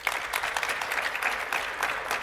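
Audience applause at an executive panel at a travel industry conference, a steady wash of clapping from a crowd that holds for a couple of seconds without pause.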